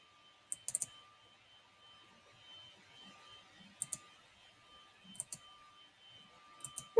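A computer mouse clicks on a link, giving a few crisp, quiet, isolated taps spaced seconds apart over a faint steady hum in a quiet room.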